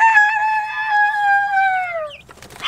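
A person imitates a rooster crow with the voice, one long drawn-out call that holds steady and then bends down at the end, close and clear, followed by faint rustling.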